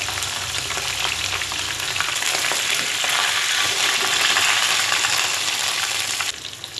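Hiwas fish frying in hot oil gives a dense, steady sizzle with crackling spatter, loud and close. It eases slightly near the end, with no voices.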